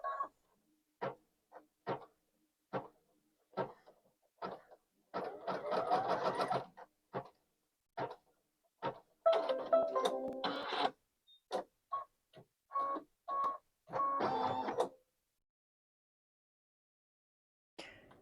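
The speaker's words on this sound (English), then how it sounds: "Now it's going to stitch my vinyl down." An embroidery machine stitches vinyl down onto a luggage tag, giving close, rapid mechanical bursts with short pauses between runs and occasional longer continuous stretches of stitching.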